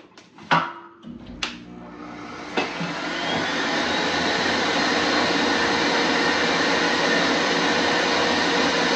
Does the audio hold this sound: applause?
no